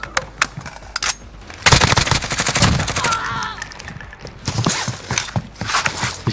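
Video game firefight with heavy machine gun fire, sharp single shots early giving way to a loud sustained automatic burst, then renewed rattling volleys, with battle noise throughout.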